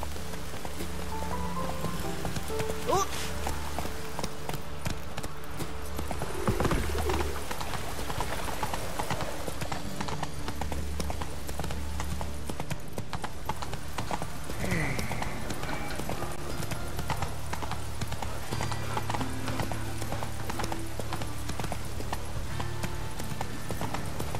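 Steady clip-clop of a horse galloping throughout, from the video game The Witcher 3: Wild Hunt, with a brief whinny and someone speaking over it.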